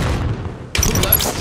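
A grenade explodes in Halo 5: Guardians, scoring a double kill: a low rumbling blast, then a sharp burst of crackling gunfire and booming game effects that stay loud and close.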